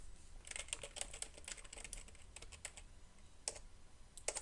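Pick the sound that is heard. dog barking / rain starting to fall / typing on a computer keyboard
typing on a computer keyboard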